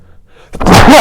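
A single loud, close sneeze bursts out after a brief quiet intake of breath.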